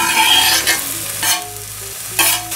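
Mushrooms tipped into a hot pan and cooked for a pumpkin-and-mushroom ravioli filling, giving a loud, close, bright sizzle that swells with each addition and stir, then settles into a steady crackle.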